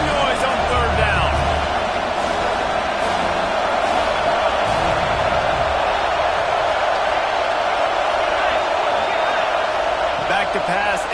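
A stadium crowd at a Georgia State versus Georgia college football game roars loud and unbroken on third down, a dense wall of cheering that fills the whole stretch, with an announcer's voice running over it.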